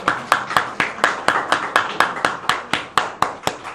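A church congregation claps together in a steady, rhythmic unison beat, about four sharp claps per second, with no talking.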